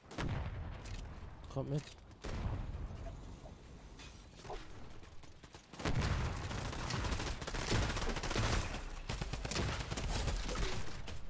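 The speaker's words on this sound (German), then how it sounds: "Doch, da hinten wird geschossen." Rapid bursts of gunfire crackle steadily in a Fortnite match, loud and dense for most of the stretch, with a brief spoken line over it.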